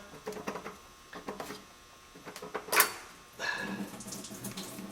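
Coolant trickling and splashing out of a Duramax LB7 diesel's water pump during removal, a faint steady running drip with a brief louder splash midway, close by in a quiet workshop.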